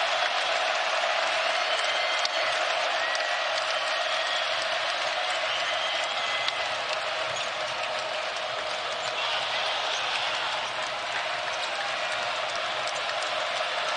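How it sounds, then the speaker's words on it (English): A basketball crowd at Hilton Coliseum rises to its feet during Iowa State vs Kansas State and roars in a dense, steady wall of cheering that holds loud throughout. "And now the crowd is on its feet."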